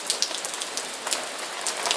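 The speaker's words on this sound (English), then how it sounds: "Oh, it's raining harder." Steady rain pouring onto a surface, dense and continuous hiss with scattered close droplet ticks, fairly even in loudness throughout with no voices.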